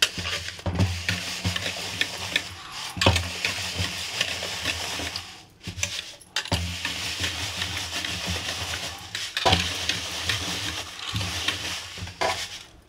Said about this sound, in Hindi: इसी प्रकार से हम पूरे दलिया को छान लेंगे।